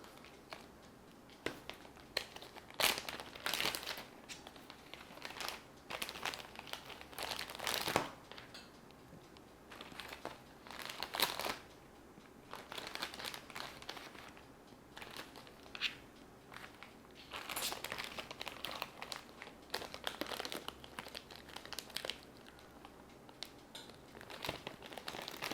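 A clear plastic zipper bag holding leftover polymer clay crinkles and rustles continuously while air is pressed out and the bag is sealed, close and fairly quiet, with no voices.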